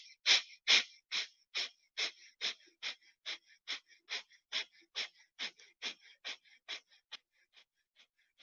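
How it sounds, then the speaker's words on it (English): A breathing exercise of rapid alternating exhales and inhales: about twenty evenly spaced, breathy puffs close to the microphone, slowly fading in strength, with no talking. "Fast exhale, fast inhale."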